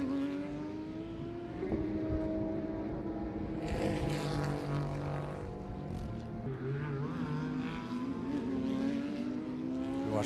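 Race cars in a club road-racing event sweep through turn seven at a racetrack, engines droning steadily and overlapping as several cars pass in sequence, pitch shifting as they go by at moderate distance.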